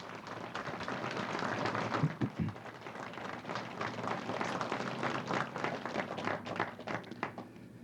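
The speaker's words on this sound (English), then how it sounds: "if there's somebody who deserves applause, it's those fellows" An audience applauds a work crew at the 1988 opening of the Manitou Springs Spa in Manitou Beach, Saskatchewan, with dense, steady clapping from many hands at moderate distance that swells and thins slightly.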